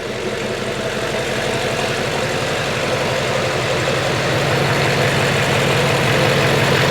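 A Duramax diesel engine idling on its first start after a build, running as a loud, steady low rumble with an even rhythmic chug from start to finish, no voices.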